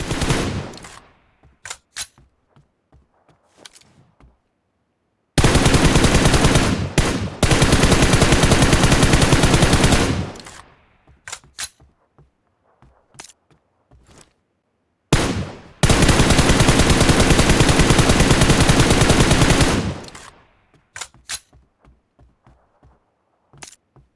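Loud automatic gunfire in the video game PUBG Mobile, with two long sustained bursts of several seconds each and short scattered shots in between.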